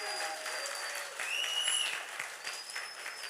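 A church congregation bursts into sustained applause during a French-language worship service, a steady wash of clapping with a few sharper claps and a faint voice or tone rising briefly in the middle.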